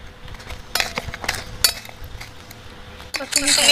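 Salted guava mix being stirred with a metal utensil in a bowl, giving scattered clinks and scrapes at uneven intervals, close by, with people talking and a louder rustle toward the end.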